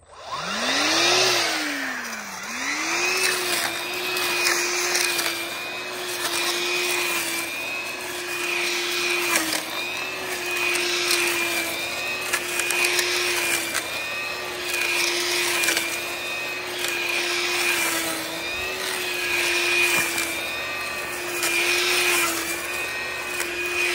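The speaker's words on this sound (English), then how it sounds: "Here we're going to cut the grass. We have a dry grass. We're going to work always at full speed." A Stihl FSA 135 battery brush cutter fitted with a 250 mm brush knife cuts dry grass at full speed in December, a loud steady whine close by with slight rising and falling surges and no talking.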